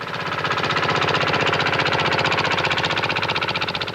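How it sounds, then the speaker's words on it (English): A small prototype tractor engine chugging hard as it tries to plough the earth, a loud, steady, rapid knocking beat that holds without pause throughout. "They tried the most obvious intermediate solution, a much smaller tractor."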